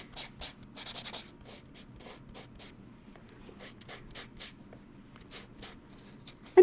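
Light, quick scratchy rubbing strokes of microfine abrasive sanding enamel come in short bursts with pauses between them, close up and fairly quiet.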